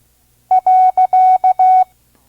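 Morse code period sent as a loud, clean tone in six beeps alternating short and long, dot-dash-dot-dash-dot-dash, followed by silence.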